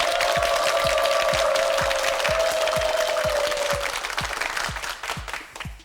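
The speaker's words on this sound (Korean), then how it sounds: "박수 보내주세요." Studio audience applause on a Korean TV word quiz show, a sustained, fairly loud round of clapping with a rhythmic beat, while a sustained musical tone plays through the first part before the clapping fades out.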